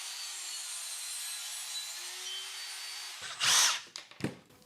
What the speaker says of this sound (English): Now I'll set the fence so that I can sandwich that MDF board between the fence and the blade, lock it down, and I'm ready to make the cut.